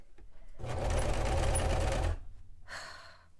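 A sewing machine runs in one close burst of rapid stitching lasting about a second and a half, then stops, followed by a faint breath.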